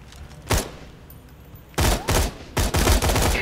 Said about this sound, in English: That sounds exactly like his gun, right? His turret.